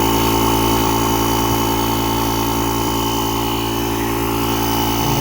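A JomGand JQP2250 portable air compressor pumping up a flat tyre runs with a loud, continuous buzzing motor drone and dense mechanical whine, steady from start to finish with no speech.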